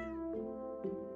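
A cat in the video game Stardew Valley gives one drawn-out meow that falls away, followed by a short chirp of a second meow, soft and near.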